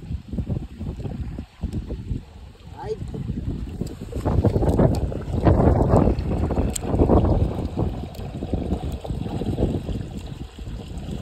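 Strong wind blows by the water, heavy gusty buffeting that rises and falls throughout, loud and close, with no voices.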